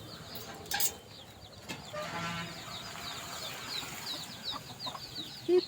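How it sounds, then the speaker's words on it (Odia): Desi chickens clucking softly while pecking at scattered rice outdoors, a low scattered flock murmur with occasional faint calls, fairly distant and quiet. "ପିଇସାଙ୍କର ଦେଖୁଛନ୍ତି କେତେ କୁକୁଡ଼ା, ସବୁ ଦେଶୀ କୁକୁଡ଼ା।"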